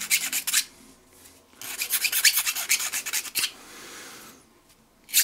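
A flat file rasps across a G10 scale for a custom Victorinox knife, making rough scraping strokes in several close bursts separated by quieter gaps.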